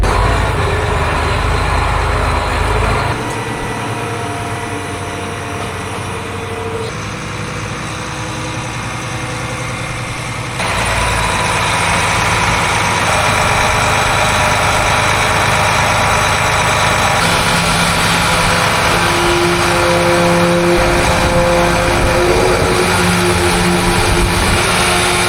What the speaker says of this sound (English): So I'm gonna move this tractor out of the way, put a little diesel in that tractor, move it out of the way.